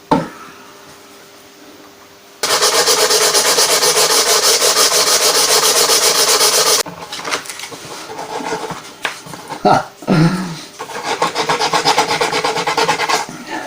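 Rough, rasping strokes of sandpaper on a wooden guitar fretboard, a steady loud burst of sanding followed by shorter uneven rubbing and a few knocks.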